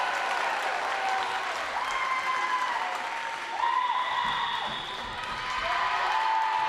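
Crowd at a college volleyball match between Washington & Lee and Lynchburg cheering and applauding steadily throughout, a continuous roar of claps and voices that swells slightly near the middle and end.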